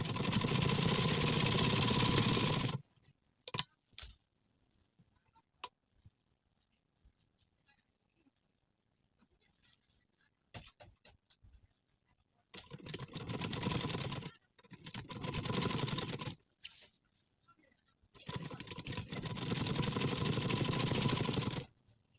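A sewing machine stitches around a boat neckline in several steady whirring runs of a few seconds each, separated by quiet pauses with small handling clicks.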